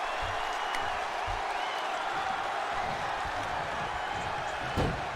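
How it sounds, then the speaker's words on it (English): A wrestling crowd roars and applauds in a steady wash of cheering that holds throughout, with faint thuds in the background. "And now getting the crowd all fired up behind him."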